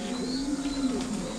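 Thai Titan meat pigeon cooing close by, with a low, steady, throaty coo drawn out under a faint background hum and no talking.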